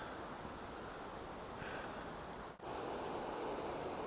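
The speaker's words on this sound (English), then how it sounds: "I've never really noticed that waterfall down there. That's pretty epic." A waterfall below the trail in Glacier Gorge, Rocky Mountain National Park, gives a soft, steady wash of falling water, distant and faint, with a brief dip partway through.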